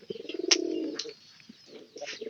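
A pigeon coos close by in a home loft, a deep throaty rolling call lasting about half a second, followed by a few softer broken coos and faint chirps.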